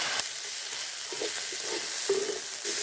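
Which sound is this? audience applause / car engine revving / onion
onion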